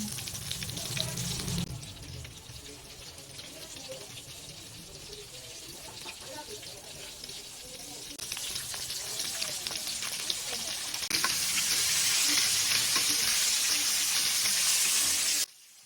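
Chicken dredged in flour fries in hot oil, a steady broadband sizzle and crackle that swells louder toward the end before cutting off abruptly, with no talking over it.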